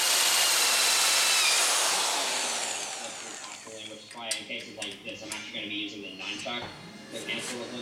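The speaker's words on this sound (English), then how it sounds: "drill a hole on the side of the tube here for the outlet" A power drill whines loudly for a few seconds while drilling a hole in the side of a metal tube, then winds down and stops, followed by a person talking nearby.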